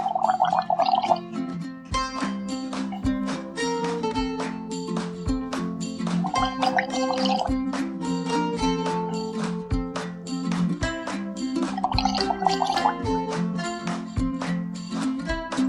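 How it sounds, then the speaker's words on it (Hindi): A person gargles water in repeated bursts of bubbling throat gurgle, close and loud, broken by short pauses between rounds while music plays steadily underneath. "यानी 3 घूंट पानी और 3 बार गरारे और वो पानी अंदर।"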